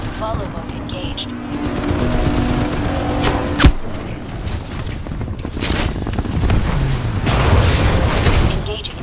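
Titanfall 2 multiplayer match in Domination mode, with dense, loud bursts of gunfire and booming impacts throughout, mixed with game effects and an announcer's voice speaking over the combat.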